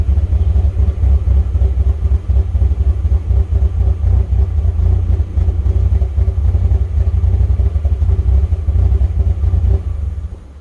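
A Mazda Miata engine running on a SpeedyEFI plug-and-play fuel injection system, struggling to idle, gives a loud, close, continuous low rumble as the throttle is slowly eased off, with slight fluttering unevenness throughout.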